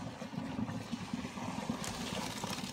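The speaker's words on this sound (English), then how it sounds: "you slowly pour this into a strainer that's in your sink" Hot macaroni cooking water is poured slowly from a pot into a strainer in a kitchen sink, a steady splashing gush with a brighter hiss of water toward the end.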